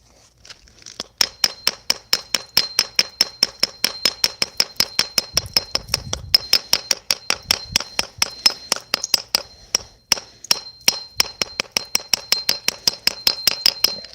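Hammer strikes ring out in a fast, steady series of sharp metallic hits, loud and close, continuing for over a dozen seconds with a faint low thump partway through.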